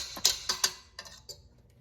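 A metal whisk is lifted out of a mixing bowl of meringue cake batter, giving a handful of light, close clinks and taps against the bowl that space out and fade.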